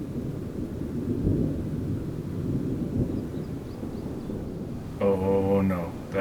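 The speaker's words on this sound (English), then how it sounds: "Some very, very grumbly clouds right now. There's a big storm coming through." Low thunder rumbles steadily in the distance for several seconds, then a voice speaks briefly at the end.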